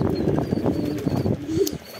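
Domestic pigeons cooing in a rooftop loft on a house in Bangladesh, soft low coos repeating steadily with faint chirps and light rustling close by.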